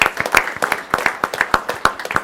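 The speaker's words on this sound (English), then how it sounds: "let's give her a round of applause for that." A few people clapping at a city council meeting, a sparse, uneven patter of individual claps rather than a full ovation, close and fairly loud with no talk.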